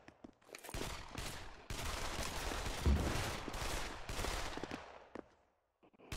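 Rapid bursts of gunfire crackle in a round of the video game Trouble In Terrorist Town, dense volleys of overlapping shots rattling for several seconds before tapering off.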